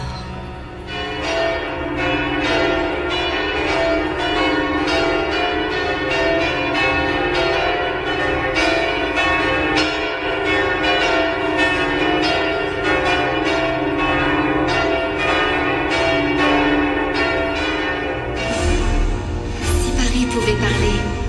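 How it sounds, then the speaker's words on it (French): The bells of Notre-Dame's north tower in Paris ring continuously in a dense, overlapping peal, loud and sustained, with layered strikes and a shift in tone near the end. "à l'appel des cloches de la tour nord"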